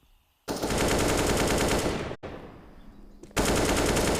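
Dense automatic gunfire from wall bangs in Counter-Strike, heard at a pro match on the Ancient map, loud and continuous in two long bursts with a short quieter gap between them, no talk over it.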